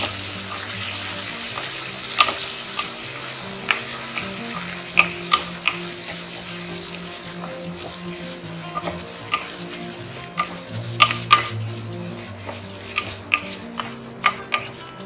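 Curry leaves and dry red chilli crackle in hot oil in a pan while a spoon stirs through them, a continuous sizzle broken by sharp scrapes and pops, close with no talk.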